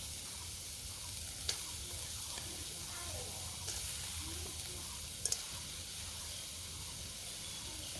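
Chopped onion fries in mustard oil, a close, steady, broad sizzle, with a few faint clicks and scrapes of stirring.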